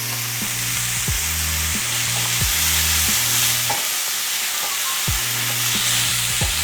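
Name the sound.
frozen vegetables stir frying in oil in a pan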